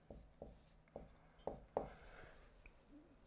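Chalk or marker strokes on a board while math is written, five or six distinct taps and scratches in an uneven rhythm, close and fairly quiet, with no talking.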